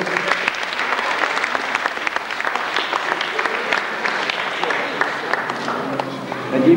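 Sustained audience applause at a children's judo Christmas event in Barcs, a steady dense wash of clapping from a crowd holding level throughout.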